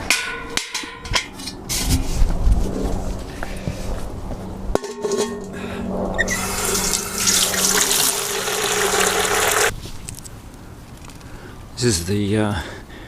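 At a Tokyo allotment, water runs from a tap into a watering can, a strong rushing stream lasting several seconds, preceded by clunks and handling noises, with a person talking nearby.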